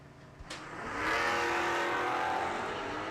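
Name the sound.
1955 Chevy drag racing down the strip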